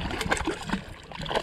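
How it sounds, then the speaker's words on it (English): Fishing bait smacks into the water near a small boat in the Florida Everglades, a few close, short splashes and gurgles that stand alone without talk. "my bait like just hit the water"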